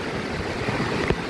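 Floodwater pours over a bridge in a continuous, rushing roar, a brief steady wash of turbulent water with no voices.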